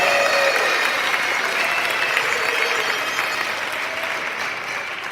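Sustained audience applause at a gun-responsibility fundraising event, given to donors at the $5,000 level; a dense, steady crowd clapping that fills the space and tapers slightly toward the end.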